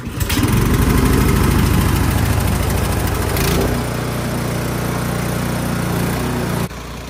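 A snow clearing machine runs loudly and close by after heavy snowfall, a steady engine drone that drops to a lower, quieter idle partway through and dips again near the end.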